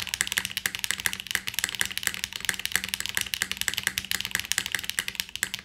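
Rapid typing on a DR-70F mechanical keyboard with foam inside and a GMK spacebar, a dense, steady run of close, crisp keystrokes with deeper spacebar thocks mixed in, no voices.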